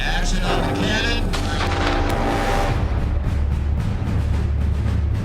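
Real cannon fired on the set of a Revolutionary War film, a loud blast up front followed by a long rumbling, crackling decay with scattered booms trailing off over several seconds.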